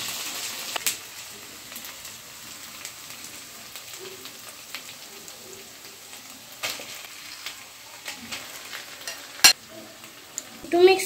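Mashed boiled potato being stirred into a bajra (foxtail millet) cutlet mixture, soft irregular scraping and squelching strokes at close range with a few sharper clicks near the end, no talk.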